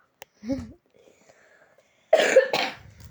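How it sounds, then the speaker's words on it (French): A short vocal sound followed by a pause, then two loud, harsh coughs close up, one right after the other. "tu tousses comme un fou, toi"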